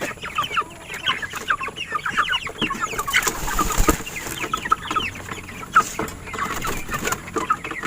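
A flock of broiler chickens clucks and chatters continuously nearby, many overlapping calls with occasional louder squawks and some rustling.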